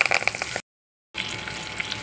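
Curry leaves and garlic sizzle in hot oil in a kadai while potato and tomato curry is being prepared, a steady close crackle that cuts out briefly to silence before resuming.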